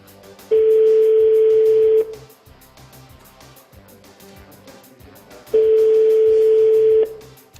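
Two long, loud ringback tones on a French telephone line, each lasting about a second and a half and separated by several seconds of near quiet, with the call going unanswered.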